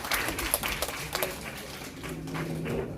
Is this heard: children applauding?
yes